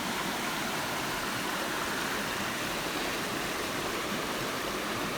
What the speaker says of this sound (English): This is Ginger Cake Creek.